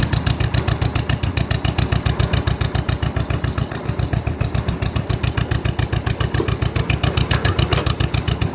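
A 1948 John Deere M tractor engine idles loudly and close by, its steady rapid exhaust pulses thumping in an even rhythm through the reproduction muffler with no voices.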